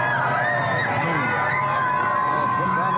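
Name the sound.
crowd cheering in the streets for Donald Trump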